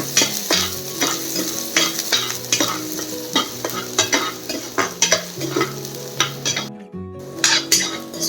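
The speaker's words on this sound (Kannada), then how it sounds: "ಈಗ ಆನಿಯನ್ ಚೆನ್ನಾಗಿ ಫ್ರೈ ಆಗ್ತಾ ಇದೆ." Half an onion fries in oil in a pan for a Mangalore-style clams sukka, with a steady sizzle broken by repeated scraping stirs and clinks of a spoon against the metal pan, close and fairly loud.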